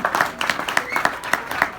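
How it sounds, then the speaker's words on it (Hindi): Audience at a motivational laughter show clapping in a fairly regular rhythm, with sharp, bright claps falling about four per second, close and moderately loud. "आप आराम से खूब तालियां बजा सकते हो"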